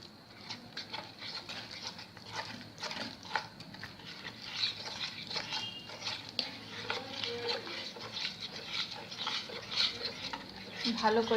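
Gram flour batter is whisked with water for besan chilla, a steady scraping stir with small clicks of utensil against bowl, fairly quiet and continuous with no talk.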